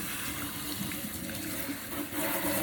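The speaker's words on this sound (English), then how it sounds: "And we're going to rinse it." Water pours and splashes steadily while a child's hair is rinsed, a close, continuous gushing wash that swells slightly near the end, with no talking.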